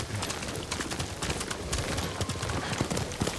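Horse hooves clip-clop in the game Ghost of Tsushima, a quick, irregular run of sharp hoof strikes close by over faint ambient background, with no speech.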